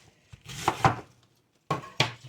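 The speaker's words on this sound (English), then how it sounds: "I finished cutting the cabbage up" A knife chops cabbage on a cutting board in two quick clusters of sharp thuds, a pair of strikes, a pause, then two more, close and crisp with no talking.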